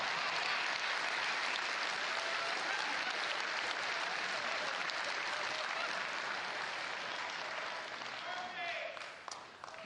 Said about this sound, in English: I'm getting a very hesitant applause from over there